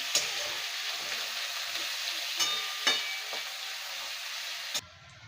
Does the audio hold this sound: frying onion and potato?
yes